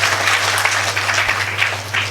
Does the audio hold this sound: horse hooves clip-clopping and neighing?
no